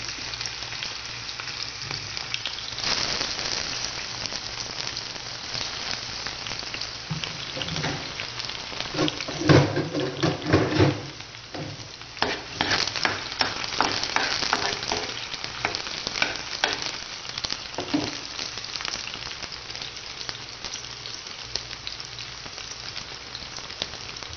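Onion sizzles as it hits hot oil in a pan where garlic is already frying golden, part of a beef and broccoli dish. A loud, continuous crackling fry rises and falls with stirring, and no one speaks.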